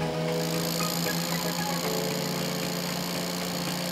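The engine of a VE90AS-Ti portable seawater pump runs at a steady, close, loud idle-like drone with an even rhythmic throb throughout.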